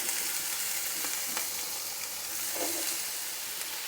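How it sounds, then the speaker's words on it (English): Onions frying in a tablespoon of olive oil, an even, close hiss of sizzling with a few light knocks of utensils, short and steady with no one speaking. "we'll just 1 tablespoon of olive oil, and we'll throw the onions in there"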